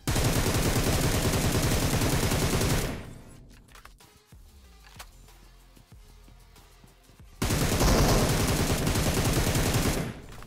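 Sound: gunfire in video game BGMI (PUBG Mobile)

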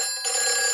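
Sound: fire station telephone ringing in a Peppa Pig cartoon

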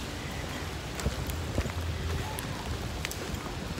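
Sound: rain beating on a glass window

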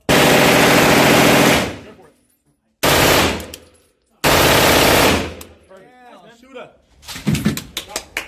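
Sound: 9mm submachine gun firing full auto at gun range

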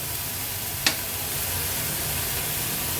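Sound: sautéing baby shrimp masala in pan

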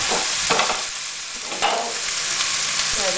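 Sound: whole onion added to browning meat in pot

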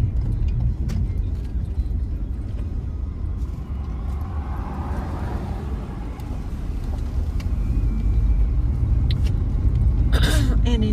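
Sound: car driving slowly along a road

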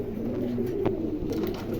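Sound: pigeon cooing

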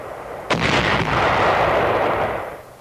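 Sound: anti-personnel shoe mines detonated four at a time

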